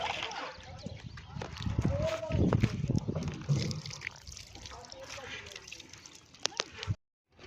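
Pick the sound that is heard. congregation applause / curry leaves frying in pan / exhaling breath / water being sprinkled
water being sprinkled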